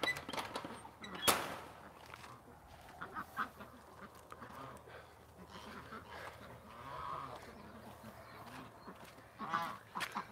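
Ducks quacking and honking outdoors as a dog herds them around, scattered calls at varying distances with a loud burst early on, faint background noise between calls.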